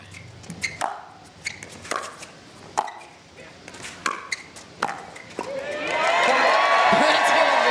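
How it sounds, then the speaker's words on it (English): At a pro pickleball match at the Sacramento Open, crisp paddle pops sound in a rally, then a crowd breaks into loud, sustained cheering and roaring that swells over the last couple of seconds. "and the crowd erupts"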